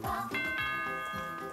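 A bright two-tone ding-dong chime from the Super Mario Maker video game, ringing out twice in quick succession at moderate volume with no talking.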